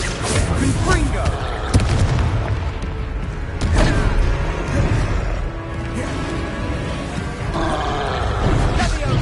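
Confringo blasting spell in Hogwarts Legacy on PlayStation 5, a loud sustained booming roar of explosions and crashing impacts with rumbling low end, dense and continuous throughout, with voices underneath.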